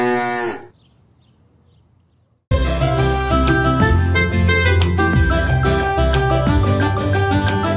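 A cartoon cow gives one short moo at the start, followed by a moment of near silence before loud, busy children's music kicks in and runs to the end.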